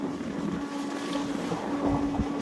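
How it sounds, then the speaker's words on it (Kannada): A local train runs at speed on a rural coastal route, heard as a steady, fairly quiet rumble of rushing air and rolling wheels with no speech. "ನಮ್ಮ ಲೋಕಲ್ ಟ್ರೈನ್ ಎಷ್ಟು ಸ್ಪೀಡ್ ಹೋಗ್ತೀವಿ ನೋಡಿ"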